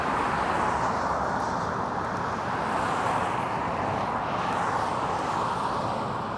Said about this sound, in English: you probably couldn't hear me over the planes half the time using the phone mic.